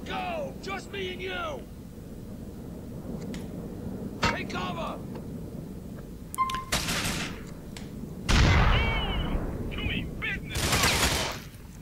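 Grenade explosions and gunfire in the video game GTA 4, several loud booms and bursts scattered across the stretch, with someone talking in between.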